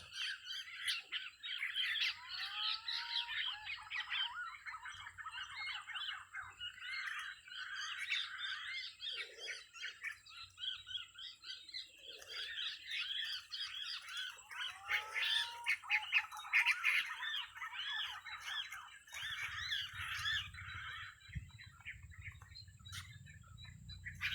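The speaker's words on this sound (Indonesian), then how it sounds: "Kita belajar menangkap burung curucukan." Curucuk birds call near a catching net in Aceh, repeated chirps and squawky notes over a busy chorus of insects or frogs, moderately distant and continuous, with a low rumble near the end.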